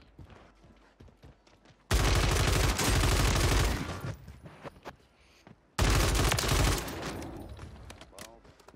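Sustained bursts of RAM 7 rifle fire in Warzone 3, two long loud automatic volleys separated by a short lull, with quieter game sounds between.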